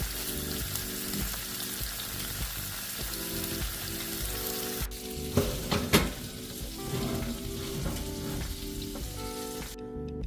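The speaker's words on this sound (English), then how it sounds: "add our meatballs into the clear side" Meatballs sizzle steadily in a Ninja Foodi Neverstick pan. The frying hiss is continuous and close, with a couple of sharper pops and a soft clink partway through.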